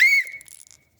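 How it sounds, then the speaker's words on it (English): Small survival-kit whistle with a ferro rod on its side, one short, sharp, shrill blast nearby that cuts off quickly into silence. "It's a whistle."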